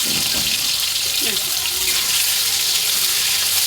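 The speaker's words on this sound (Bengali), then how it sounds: "এই পর্যায়ে আমি আলুগুলো ছেড়ে দিচ্ছি আলুটা আমি ভেজে নেব ভালো করে" A steady, loud hiss of potato pieces frying in hot oil, continuous throughout, with a brief murmur of voice near the start.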